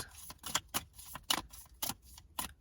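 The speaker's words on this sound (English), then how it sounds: "Now I'm going to shuffle from this deck a little bit and see if there's any extra messages." A deck of tarot cards is shuffled up close, giving a quiet series of quick riffling, slapping bursts in an uneven rhythm, with no voices.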